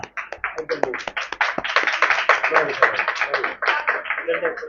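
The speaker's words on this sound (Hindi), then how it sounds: "आप सबकी जोरदार तालियां" Enthusiastic audience applause for student teams at a Gospel of John quiz competition final round, dense clapping sustained for several seconds with scattered sharp claps and voices mixed in.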